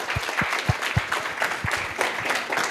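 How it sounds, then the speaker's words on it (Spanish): An audience applauds speaker Pablo Mackenna at a book and reading month event, with a few sharp, separate claps at first that build into steady mixed clapping. "quiero reiterar el aplauso entonces para Pablo Maquena, que está con nosotros"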